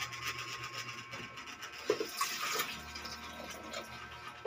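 Cold water poured into a container while making fresh moringa leaf juice in a kitchen, a steady close splashing gurgle over faint background hum, with a brief clatter midway.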